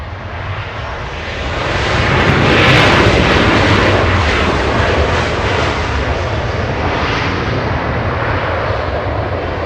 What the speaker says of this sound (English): we also have an arrival on 24 left. So the aircraft on the left side performing a sidestep maneuver.